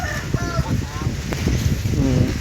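Chickens cluck and call near a rural home on a rainy, stormy day, short faint clucks over steady background noise while a person talks throughout.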